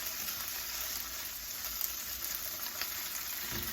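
Garlic sizzles steadily in a hot frying pan with olive oil, a continuous bright hiss holding level throughout with no voices over it.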